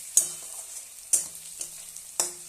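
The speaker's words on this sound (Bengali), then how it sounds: "এটা একটু ভাজা হোক" Meat and spices frying in hot oil, with several separate scraping stirs of the spoon against the pan spaced across a couple of seconds over a soft sizzle; no one speaks.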